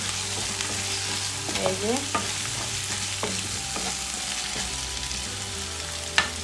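Onion, garlic and ginger frying in a pan for a Bangladeshi fish dish, with a steady soft sizzle and a few clinks and stirring scrapes throughout.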